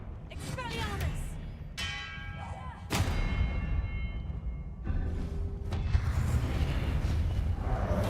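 Expelliarmus disarming spell effects from the Hogwarts Legacy video game: sharp magical bursts and ringing, bell-like tones with whooshing impacts, layered over loud, continuous game combat noise.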